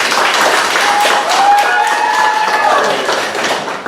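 Students at an improv comedy class show cheer and clap loudly, a dense burst of applause with whoops and rising shouts near the front, fading slightly toward the end.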